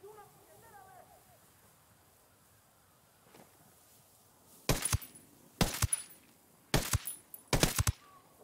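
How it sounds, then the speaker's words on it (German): A heavy cartel machine gun in the Ghost Recon Wildlands video game fires four loud, short bursts in quick succession, following a stretch of quieter ambience and voices. "woher die Schüsse kamen. Ja, okay. Jo, schweres Kartell-MG."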